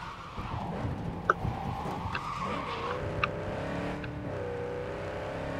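A car drifting on dirt in Cyberpunk 2077, its tires squealing and skidding as the engine drones and shifts pitch, with a few sharp ticks over the steady slide.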